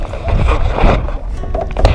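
A small wooden boat without an engine is paddled at sea, with close, loud splashing and water sloshing in uneven strokes amid wind buffeting.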